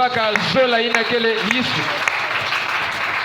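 A church congregation claps and cheers in praise of the Lord, a loud crowd ovation with a voice speaking over it through the short stretch.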